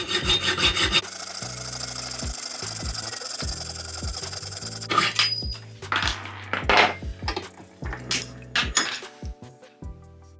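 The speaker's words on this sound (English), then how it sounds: "So I have a small bolt here. I'm going to cut it." A small bolt is sawn through while clamped in a 4.5-inch engineer's bench vice, rhythmic metallic rasping strokes close up, then a pause followed by irregular scraping and clinking handling noises.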